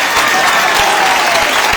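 An audience at a rally in Udine claps in sustained, dense applause, loud and close, with a few voices mixed into the crowd.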